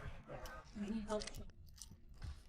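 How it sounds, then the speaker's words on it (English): Someone bites into and chews a crunchy taco at Applebee's, with a few brittle crunches up close while a person talks over them. "Did you hear that crunch?"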